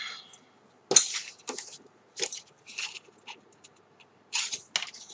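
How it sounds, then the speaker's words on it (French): Scissors snip through a cardboard box lid to cut tabs at a slight bevel, giving sharp crunchy cuts in irregular bursts with short pauses between them, close up. "On va prendre des ciseaux."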